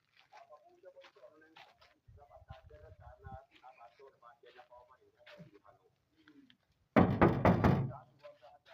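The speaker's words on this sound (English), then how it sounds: "before you enter someone's boma or someone's house, you have to knock" Knocks on the gate or door of a homestead enclosure, a boma, before entering: a dull set of raps partway through, then a louder, denser burst of knocking near the end, with people talking throughout.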